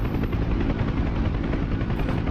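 A Huey helicopter in the DCS flight simulator game, a loud, steady rotor and engine roar with a fast, even blade thrum that fills the whole clip, close up, with no voices.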